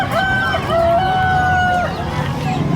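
Silkie chickens cluck and call at a pets and livestock market in Bocaue, with a long tonal crow-like call rising above shuffling and background voices.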